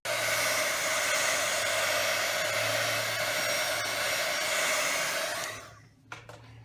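A hair dryer blows steadily at close range for about five and a half seconds while drying a watercolor painting on a Christmas card, then switches off, leaving a quiet room with a couple of soft clicks.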